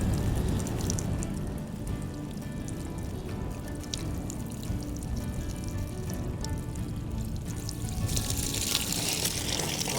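Oil gushes and splashes steadily for the whole stretch, a dense pouring, spattering rush that swells slightly louder toward the end.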